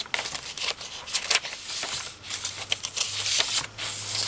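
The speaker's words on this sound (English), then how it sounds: "these are typed on my old typewriter" An old mechanical typewriter is worked in close, busy bursts of bright clacking keystrokes, with a steady faint hum underneath and no voices.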